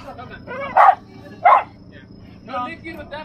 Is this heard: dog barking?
yes